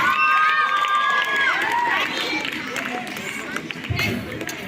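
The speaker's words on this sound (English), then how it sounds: "Give a big round of applause" An audience of children and adults at a school Children's Day celebration in India cheers and claps, loud shrill shouts at the start fading into a busy crowd hubbub with scattered clapping.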